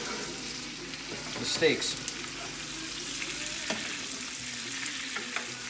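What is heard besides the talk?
NY strip steaks sizzling, basted with rosemary garlic butter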